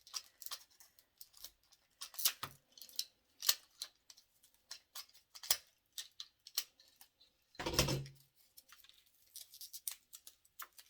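Scissors snipping material for a Dollar Tree snowflake door hanger craft: sharp, close clicks and snips scattered irregularly against near silence, with one longer rustling cut partway through.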